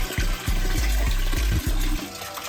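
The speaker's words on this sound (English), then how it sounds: "I can also drain it by here by opening the bypass here." Water gushes out of a home's plumbing through an opened bypass valve on a leaking water system, a loud, close rushing flow with a few low thumping surges, no talking.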